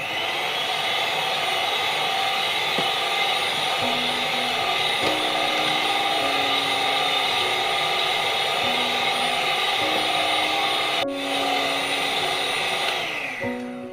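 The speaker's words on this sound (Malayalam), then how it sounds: "ഇനി നന്നായിട്ടൊന്ന് ബീറ്റ് ചെയ്തെടുക്കാം" An electric beater whirs steadily through cake batter with vanilla essence for black forest cake, a constant loud motor drone with small pitch shifts and a brief clatter near the end.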